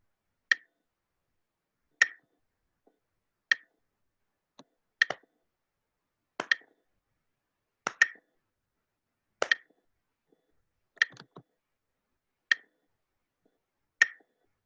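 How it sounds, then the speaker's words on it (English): A metronome set to 40 beats per minute, sharp isolated clicks evenly spaced about one and a half seconds apart, ten beats in a quiet room with nothing else audible. "So I've set my metronome at 40 beats per minute"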